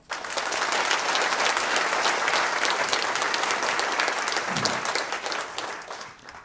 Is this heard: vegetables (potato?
no